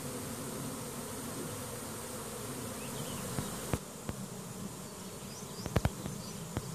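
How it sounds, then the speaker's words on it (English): A honey bee swarm fills the air over a garden with a dense, steady buzz, close and continuous, with a few faint clicks and taps near the end. "The air is full of bees now, all over the garden."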